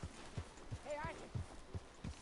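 Horse hooves in the Red Dead Redemption video game clop in a steady, fairly quiet rhythm of about five strikes, with a brief voice-like sound in the middle.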